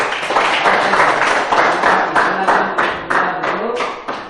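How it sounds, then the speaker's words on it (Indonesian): A classroom group claps for a presenting team, with a burst of steady, dense applause close by that fades toward the end. "kita tepuk tangan untuk kelompok 2"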